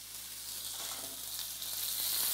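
Prawns fry in an oiled pan with a steady, close hiss of sizzling that grows slightly louder toward the end, with no talking.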